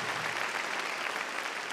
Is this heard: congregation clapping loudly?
yes